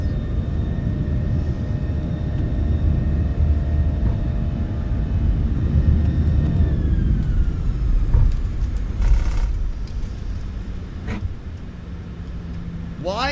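A brand-new airplane fresh from the factory accelerates on its takeoff roll, a steady loud engine roar and rumble with a rising whine, while cockpit voices speak over it near the end.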